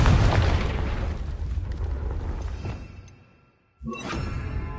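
A Confringo fire spell explodes in Hogwarts Legacy with a loud, roaring blast that rumbles on and fades out, followed by a fresh burst of noise after a brief silence.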